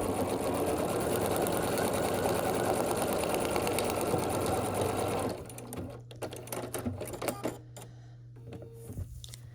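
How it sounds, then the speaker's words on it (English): A sewing machine stitches a seam on a scrappy sampler quilt block, its fast, even whir running loud and close for about five seconds, then stopping, leaving light handling clicks and a low hum. "I'm just going to flip that over and sew here on this line"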